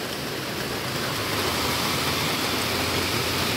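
Heavy monsoon rain pours down in a dense, unbroken hiss that stays loud and even from start to finish, with no voices over it.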